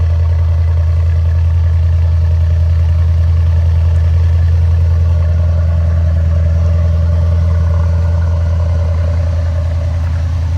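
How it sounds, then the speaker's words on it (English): A 2024 Mercedes GLE 63S engine idles steadily after a cold start with a deep, constant low rumble and faint mechanical clatter, loud and close throughout, no voices. "There's the cold start."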